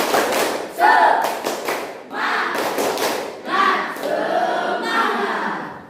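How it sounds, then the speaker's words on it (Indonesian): A group of schoolchildren performs the tepuk semangat rhythmic clap chant in a classroom: bursts of clapping and thumping in a patterned beat, mixed with shouted group voices. "kita tepuk semangat dulu ya"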